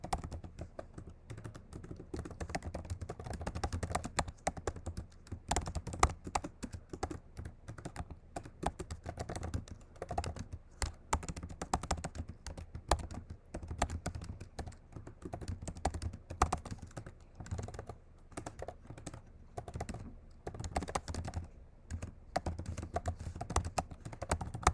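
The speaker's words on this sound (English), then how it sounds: "so I can just start typing my response" Steady, quiet clatter of fingers typing on a computer keyboard, irregular rapid keystrokes continuing for the whole stretch with brief pauses, close and without talk.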